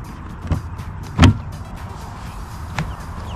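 A Thetford Porta Potti portable toilet tank is opened with a few plastic clicks and a louder latch clunk in the middle, then a fainter click, all close and with no talking.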